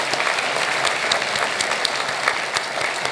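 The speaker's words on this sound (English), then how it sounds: "Please give all of our recipients of the awards for 2020 a round of applause." Audience at an awards breakfast applauds the 2020 award recipients with sustained, fairly loud clapping and a few sharper individual claps standing out, no speech over it.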